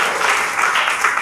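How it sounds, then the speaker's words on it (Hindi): Audience applause for a woman named Mohini at a motivational gathering, a dense, steady wash of clapping that fills the short moment without a break. "मोहिनी के लिए एक जोरदार ताली होनी चाहिए।"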